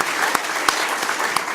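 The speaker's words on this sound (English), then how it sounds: "let's give Dual another big round of applause for their highest attendance last month" Audience applause at a school district meeting, a steady wash of clapping from a seated crowd at moderate volume, with a few sharper individual claps standing out.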